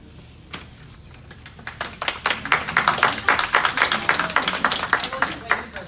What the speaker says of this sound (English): I wasn't waiting for applause, I swear.